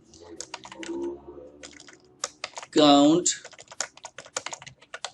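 Someone types a formula into Excel on a computer keyboard, with quick clusters of sharp key clicks and a brief louder burst near the middle, and someone speaks over part of it.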